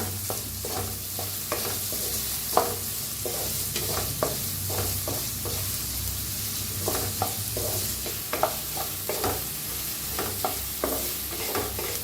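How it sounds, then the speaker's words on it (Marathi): Chopped onions and four or five green chillies fry in oil, a continuous close sizzle punctuated by regular spatula scrapes and clinks from stirring throughout, with no voices. "दोन कांदे कापून घेतलेले आहेत तेलात टाकूया हिरवी मिरच्या बी चार पाच कापून घेतले त्या ते बी भाजून घेऊया छान असं भाजूया कांदा"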